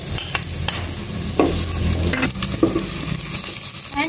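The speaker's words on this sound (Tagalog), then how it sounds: "Gigisa ko na po itong bawang." Garlic and onion sauté in hot oil in a pan, a loud close sizzle with stirring scrapes and clinks coming through at intervals.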